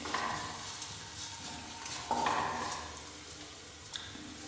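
A pan of raw papaya pickle spiced with chilli powder, turmeric and asafoetida is stirred, giving soft scraping and light sizzling that run steadily throughout at close range with no voices.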